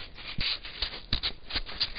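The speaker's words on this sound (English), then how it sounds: "Then I give it a good hand sanding with the 220." Quiet, rhythmic rubbing of 220-grit sandpaper by hand on canary wood, short back-and-forth strokes repeating close by at an even pace.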